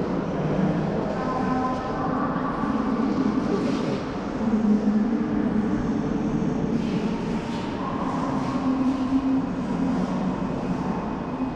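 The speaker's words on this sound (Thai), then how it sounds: "รถไฟมาฮอดแล้วเนาะ" A train arriving at a Laos–China Railway station rumbles steadily nearby, with low engine drone and rolling hum, some brief higher tonal squeals and hisses as it moves in.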